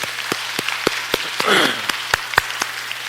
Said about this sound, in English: Let's give yourselves a big round of applause.